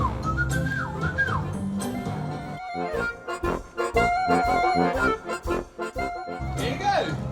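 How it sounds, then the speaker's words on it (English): A whistling kite calls during a free-flight bird show at Taronga Zoo in Sydney, its clear descending whistles sounding at the start and later, mixed with a presenter's amplified voice and outdoor crowd noise. "A whistling kite."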